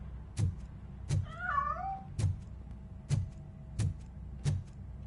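In the video game Robocop Rogue City, one wavering cat meow sounds over a steady series of six evenly spaced heavy footstep thuds, moderately close in a quiet interior.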